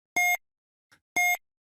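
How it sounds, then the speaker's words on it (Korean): Countdown timer giving two identical sharp electronic beeps about a second apart, loud and clean against silence. "타이머를 켰습니다. 카운트다운 시작."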